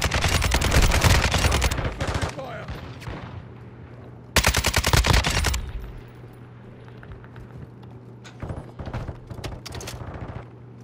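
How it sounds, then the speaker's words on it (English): Bursts of rapid automatic gunfire from shooting an enemy through a wall in Call of Duty DMZ, with two long loud volleys, then scattered sharper shots trailing off amid quieter game ambience. "I just shot him through the wall"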